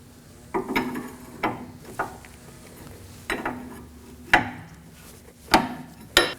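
A 24mm wrench loosens a nut on the front suspension of a 2014–2020 Acura MDX with the wheel removed, giving a series of separate metallic ratcheting clicks and scrapes spaced irregularly, close up and fairly quiet.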